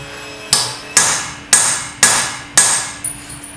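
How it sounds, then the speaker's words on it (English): Five sharp, ringing hammer blows land about half a second apart as a round punch is driven through hot metal onto an anvil, each strike loud and close with a bright metallic decay, followed by a lighter final tap. "Hit until you're through to the anvil,"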